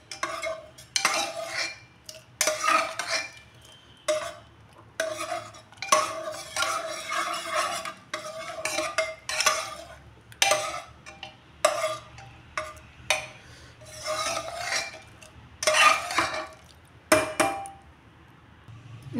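A kadai is handled on a stove, giving a series of close metallic clanks, scrapes and knocks in irregular bursts separated by short quiet gaps, with no voices.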